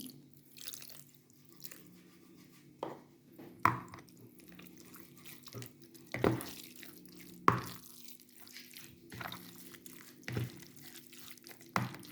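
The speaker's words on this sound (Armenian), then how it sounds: "գոլ ջուր եմ խառնում" Quiet, close sloshes and drips of water come at irregular intervals as liquid is poured in and stirred, with a faint low hum beneath.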